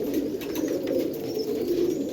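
Pigeons coo in a low, continuous rolling murmur, close and steady throughout with no gaps, while faint chirps sit in the background; no speech.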